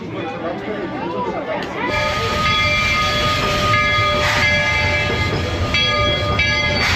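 The Walter E. Disney steam train of the Magic Kingdom railroad pulls into a station, with steady rolling rumble, squealing wheels and tonal whistle-like ringing, close and loud over crowd chatter.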